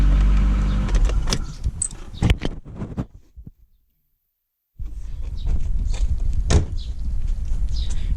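A car engine cranking and starting on a replacement battery, running loudly and steadily nearby after a brief silent pause.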